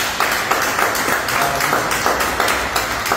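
A church congregation applauding, steady dense clapping from many hands filling a hall, sustained at even loudness throughout.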